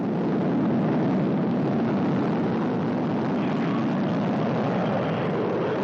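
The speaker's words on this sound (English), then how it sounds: "You can see the engines firing now, going up to flight speed and liftoff." Soyuz MS-02 rocket engines firing at liftoff from Baikonur, Kazakhstan, a steady, loud, broadband roar that holds constant for several seconds with no talk over it.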